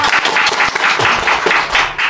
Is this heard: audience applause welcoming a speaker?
yes